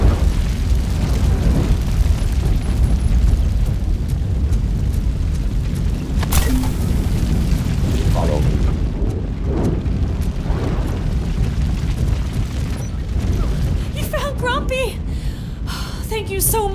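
Fire burning in RoboCop: Rogue City, a steady dense roar filling the whole clip with occasional pops and crackles, fairly loud, with a voice speaking over it.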